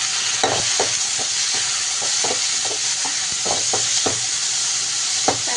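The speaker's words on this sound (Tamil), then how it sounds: "வெங்காயம் நல்லா வதங்கிடுச்சு நம்ம தக்காளி போட்டுக்கலாம்" Onion and tomato frying in a pan with repeated spoon or spatula stirring scrapes in an irregular rhythm over a steady soft sizzle, close and moderately loud, no voices.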